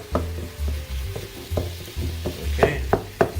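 Ground chicken searing in a hot pan on high heat, with a steady sizzle broken by several sharp scraping and pressing knocks as the meat is flattened and stirred.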